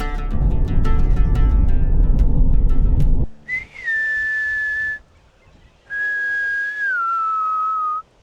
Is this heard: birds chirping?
no